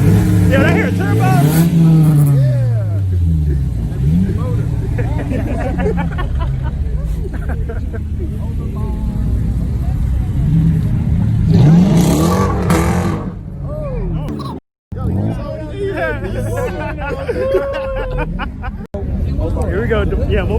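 A turbocharged car engine revs hard at a car meet, rising and falling in repeated surges beneath constant crowd chatter and cheering, with people talking nearby throughout.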